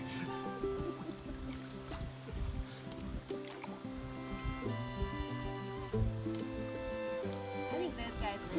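Canoe paddled along a Missouri river, with soft water trickling and paddle dips faintly under a steady background of tonal music or hum and voices nearby.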